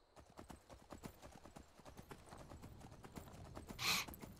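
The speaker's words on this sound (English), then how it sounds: "We're just going to ride up with a horse." Horse hooves trot in the Skyrim video game, a quick, regular clip-clop of hoofbeats running steadily throughout, with a brief brighter burst near the end.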